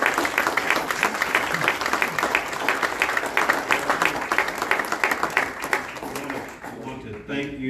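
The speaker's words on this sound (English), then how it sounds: "Please join me in giving a big round of applause for our candidates." A Texas State Senate District 27 candidate forum audience gives a full round of applause, dense clapping that continues steadily and then fades at the end as a voice begins.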